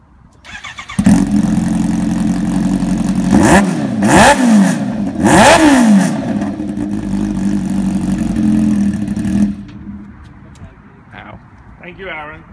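A Kawasaki H2 motorcycle engine cranks and fires, idles loudly, then takes three sharp rising revs before shutting off; people talk briefly near the end.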